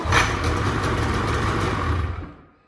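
Snowmobile engine idling with a steady mid-pitched drone, then cut off by a magnetic safety tether pull, the sound dropping away abruptly to silence near the end.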